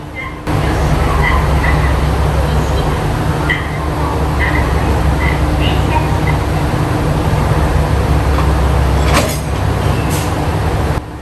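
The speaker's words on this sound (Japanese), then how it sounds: "これから何をするのかというと、もちろん連結作業です。" Railway cars being coupled together at a station platform in Shikoku, a loud continuous low rumble of idling train equipment with faint clanks and a brief sharper hiss or squeal near the end.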